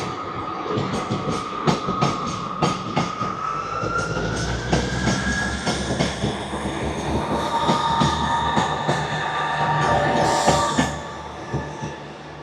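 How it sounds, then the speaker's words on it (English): A small train passes in Aberdeen, with rhythmic clickety-clack wheel beats and a rising, sustained wheel squeal, loud and close before easing off at the end. "Oh, there's a wee train."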